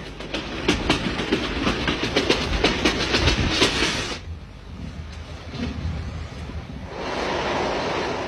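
A moving train rattles and clatters over the rails in a steady rhythmic clickety-clack, loud and close, then drops to a softer rumble midway before swelling again; no voices.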